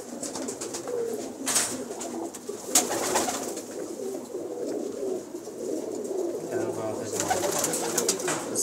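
Kept high-flyer pigeons in a loft, soft repeated cooing in the foreground with occasional wing flutters and someone talking nearby.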